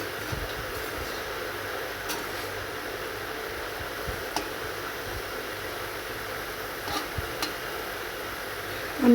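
Potatoes frying in oil in a pan until reddish and crisp, giving a steady, faint sizzling hiss throughout with a few scattered clicks and taps.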